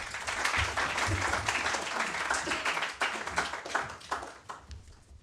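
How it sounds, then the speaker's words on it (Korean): Sustained applause from a large university audience welcoming speakers at a ceremony, dense clapping that holds steady and then gradually thins out toward the end. "큰 박수로 맞이해 주시기 바랍니다"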